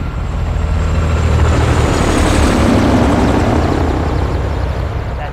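Helicopter rotors and engine in the Modern Warfare 2 campaign, a steady loud broadband roar with a low rumble that holds for the full stretch, mountain setting, no voices over it.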